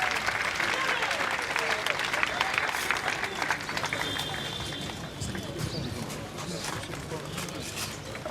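A crowd at a UDPS political rally claps steadily in dense, continuous applause, mixed with loud crowd noise and a voice speaking over it.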